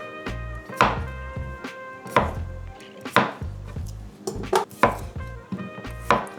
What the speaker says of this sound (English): We're going to cut our potatoes into smaller pieces before we boil them so they can cook faster.